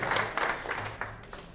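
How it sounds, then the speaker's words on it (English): An audience at a high school hall of fame induction ceremony claps in a brief burst of applause, a loose patter of hands from a crowded hall. "I think we can give Stephen a round of applause"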